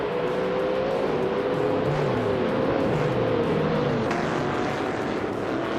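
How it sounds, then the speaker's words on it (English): A 1971 Dodge Charger races in a video game, its engine holding a steady, loud, continuous roar with a sustained tone that climbs slightly, alone without voices. "Shoebox TV is driving a 1971 Dodge Charger and is currently in 5th place."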